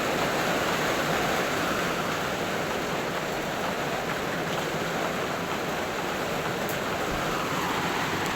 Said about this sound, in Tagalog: Mga palangga yan, giniginaw po ako, ang lakas po ng ulan.